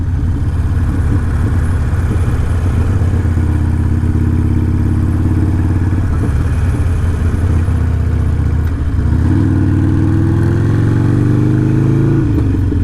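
A motorcycle fitted with a Screamin Eagle race tuner remap runs loud and close under steady engine drone. Its pitch shifts as the gears change, then rises while it accelerates near the end.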